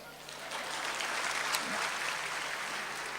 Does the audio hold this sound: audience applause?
yes